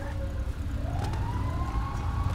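Ambulance siren in the video game GTA 5, sounding at a burning, exploded scene. One steady wailing siren tone rises and holds over a constant low rumble of engines and ambient noise.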